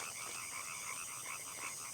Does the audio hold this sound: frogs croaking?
yes